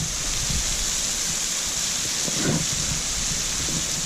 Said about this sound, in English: not sure how well you'll be able to hear me because of the sound of these falls here